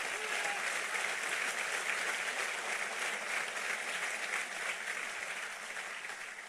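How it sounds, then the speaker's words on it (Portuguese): Audience applause fills the room in a dense, steady wash of clapping that holds strong throughout and eases slightly toward the end, with no speech over it. "Pode aplaudir a ele."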